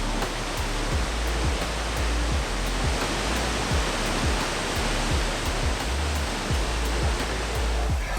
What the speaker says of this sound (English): Rainbow Falls, an 80-foot waterfall that flows over a natural lava cave.